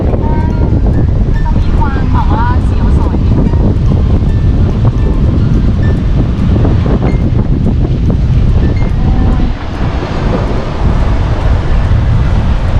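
Wind rushes steadily through the open cage of the Fujiyama Tower drop ride at Fuji-Q Highland, a constant loud roar buffeting the microphone, with occasional faint voices underneath.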